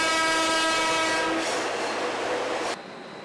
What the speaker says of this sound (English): This is the train going into the tunnel carrying the concrete tunnel segments and empty muck wagons.